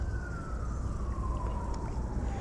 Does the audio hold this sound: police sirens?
yes